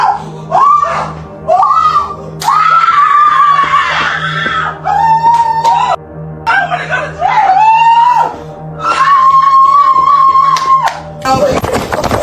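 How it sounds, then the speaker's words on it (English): Screaming and wailing from a Facebook Live broadcast, a voice crying out in repeated loud, strained bursts over several seconds with brief pauses between them. "The scream still echoed."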